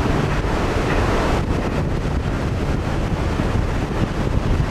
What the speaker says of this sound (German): Oh, ein bisschen Wind von vorne, weil wir schnell fahren.